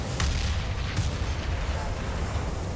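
Gunfire in Counter-Strike: Global Offensive during a DreamHack Winter 2017 esports match, heard as a few sharp shots over a steady low rumble of game ambience, with no talk over it.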